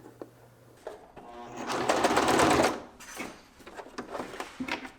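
Sewing machine stitches a front stretch pocket, needle in the fabric, with a steady whirring run of a couple of seconds between softer clicks and handling noises, close by and without talk.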